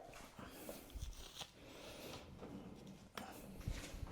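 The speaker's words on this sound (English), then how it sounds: "my dog is scratching at the door because he wants to come out" A dog scratches at a door in a home kitchen, a faint, irregular scraping and thumping with some whimpering and breathing, blended into soft background noise.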